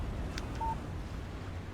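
A short, soft electronic chime from a phone announcing a text message in the game Alan Wake, heard once over a faint background hum.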